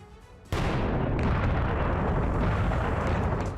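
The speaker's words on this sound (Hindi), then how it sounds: "इजराइल के हाइफा शहर पर ईरानी सेना ने भारी बमबारी की।" A missile strike and explosion hit Haifa city: a sudden blast at half a second breaks into a loud, sustained roaring rumble that slowly fades.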